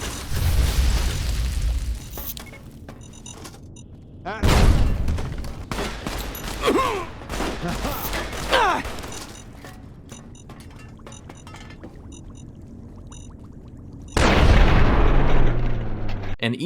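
Time bomb explosions inside a dam in the Fallout: New Vegas video game, several loud booming blasts with clinking debris, separated by quieter stretches, the last blast ringing out near the end.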